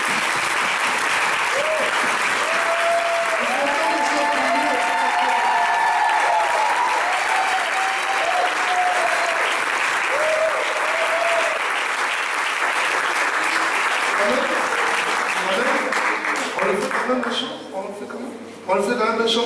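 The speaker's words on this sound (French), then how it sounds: "On va applaudir pour vous quand même" A church congregation applauds loudly and steadily for nearly twenty seconds, with voices and cheers mixed into the clapping before it thins out at the end.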